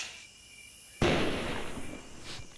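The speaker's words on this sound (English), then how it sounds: "That's a lot of fireworks." Fireworks bursting in the Roblox game Build a Boat for Treasure: a sudden loud crackling blast after a second of near silence, followed by a long fizzing, sparkling tail with a smaller pop near the end.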